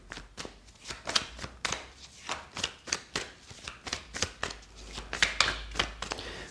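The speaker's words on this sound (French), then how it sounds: "on va prendre quelques cartes de l'oracle de la Triade" Oracle cards from the Triade deck being handled and shuffled, a steady run of crisp papery riffles and flicks close up, with no talking.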